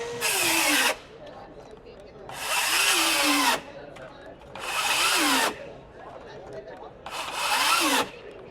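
A Ryobi brushless cordless circular saw on a tabless battery cuts wood in four loud, close bursts of about a second each, the motor pitch dropping as it bogs down in the cut.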